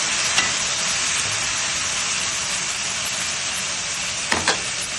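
Kancharakaya vegetable pieces fry and get stirred in a pan, giving a steady, close hiss of sizzling oil throughout with a couple of brief scraping knocks.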